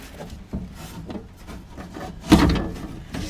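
Classic car window glass sliding down its track into the bottom of the door, a few soft rubbing, wooden-sounding knocks and scrapes ending in a louder clunk as it settles, close and alone.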